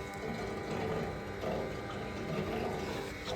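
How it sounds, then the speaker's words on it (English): Water churns and sloshes continuously inside a car radiator being agitated during a flush, a steady bubbling wash with no voices. "that is all bubbling around and moving all that gunk out the radiator"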